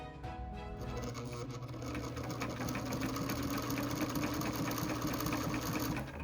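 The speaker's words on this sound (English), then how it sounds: "I really love the sound of my sewing machine." A sewing machine runs steadily at close range, its needle hammering in a fast, even rhythm over a low motor hum, with no talking.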